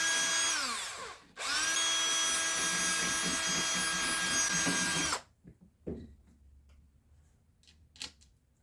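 A power drill bolts a part onto a slammed mini quad kart in two close, loud bursts, the first brief and the second a sustained whir, followed by faint clicks and handling noises.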